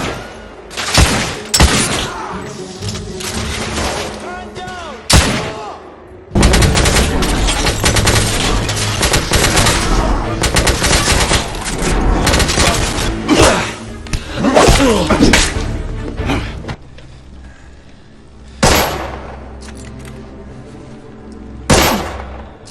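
Heavy gunfire in The Order: 1886, with bursts of rapid shots and loud, dense volleys sustained for several seconds, then isolated sharp reports near the end.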